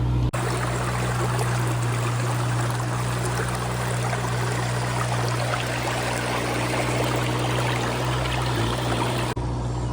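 Water pours steadily out of a pond through an emergency spillway, a continuous broadband rushing flow with a low steady hum beneath, constant and close throughout with no voices.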